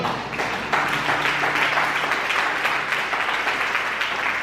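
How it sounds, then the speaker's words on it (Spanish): A church congregation breaks into sustained applause, steady clapping filling the room for several seconds without letup. "Denle un aplauso al Señor."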